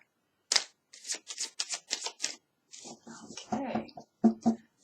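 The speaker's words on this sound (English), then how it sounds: "I definitely think we got enough cards out of that shuffle there." Tarot cards are shuffled by hand in quick, crisp riffling bursts close by, several short runs separated by brief pauses, with no talk over them.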